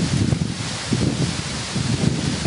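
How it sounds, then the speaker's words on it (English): Wind blows outdoors at a lakeside lunch spot, a continuous rough gusting roar buffeting the microphone, loud and unbroken with no talk. "this wind"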